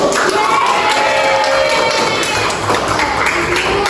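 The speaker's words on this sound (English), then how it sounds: "Give applause to all of you" Students in a classroom clap for one another during a reading teaching practice, a busy mix of clapping, cheering and scattered taps and thumps, loud and continuous with some crowd chatter mixed in.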